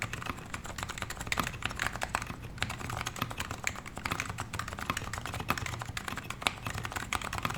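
Steady, fast typing on a custom Topre HHKB keyboard fills the recording with a dense run of soft, thocky keystrokes, recorded close and fairly quiet with no talking.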